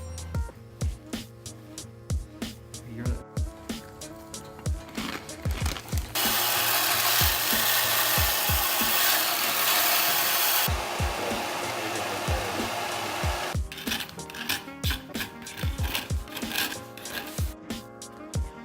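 Hand sanding the edges of a car front splitter, with a rhythmic series of rasping strokes, a steady powered whoosh taking over midway, then the scraping strokes resuming, close and fairly loud.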